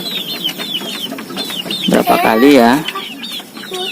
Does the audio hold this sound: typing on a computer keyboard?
no